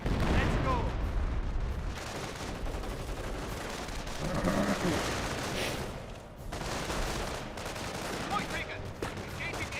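Artillery barrages and gunfire rumble continuously through a Company of Heroes battle, dense booms and crackling shots layered over a steady roar of combat, with voices faintly mixed in.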